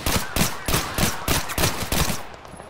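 Small arms gunfire in the video game Total Conflict: Resistance cracks out in a rapid, loud, evenly spaced burst of about eight shots, then stops abruptly near the end.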